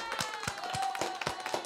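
A single person claps a handful of sharp, evenly spaced hand claps at close range, with faint background noise behind the claps.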